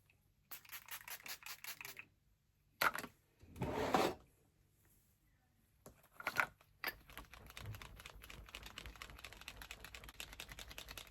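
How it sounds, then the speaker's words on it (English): A few short, sharp hissing sprays of makeup setting spray from a pump bottle, separated by quiet pauses, each a quick burst, followed by soft rustling handling noises. "Put a bit of setting spray on."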